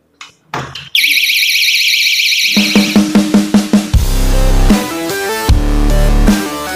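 An anti-theft alarm stuck to a house door goes off when the door is pushed. A couple of knocks come first, then a loud, shrill, warbling siren that turns into rapid pulsing beeps with clattering, all very close.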